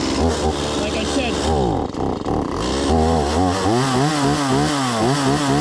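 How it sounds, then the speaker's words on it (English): A Stihl 180C chainsaw cuts firewood on a cold day, its engine whining and revving up and down in wavering pitch sweeps, loud and close, with someone talking over part of it. "I'm using my Stihl 180C"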